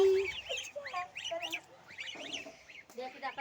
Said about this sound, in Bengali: এই দেখেন আমাদের রাজহাঁস।